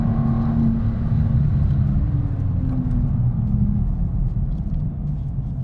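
A BMW M2 Coupe prototype with a manual gearbox drives along, its engine a steady, loud low rumble heard from inside the car, holding a constant drone with slight shifts in pitch and no talk.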